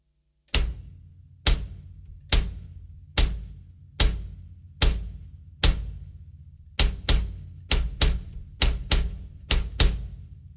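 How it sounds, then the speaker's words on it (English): A drummer's left foot bridges the hi-hat and left bass drum pedals, striking both at once in a series of sharp, punchy thumps, evenly spaced at first and then quicker in pairs and clusters, each with a short ringing decay, no talking. "left bass drum pedal with our left foot to play them at the same time"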